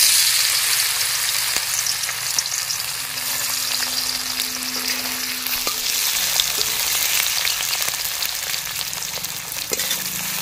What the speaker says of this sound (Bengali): এখন আমি দিয়ে দেবো কড়াইতে আলু আর বেগুন